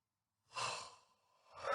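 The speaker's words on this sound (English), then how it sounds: "Sorry for all the yawning, by the way." A single drawn-out yawn from a person who has just woken up, a soft breathy inhale swelling and then easing off, close and quiet with no talking.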